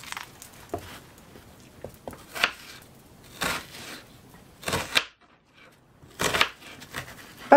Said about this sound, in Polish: kroję w kostkę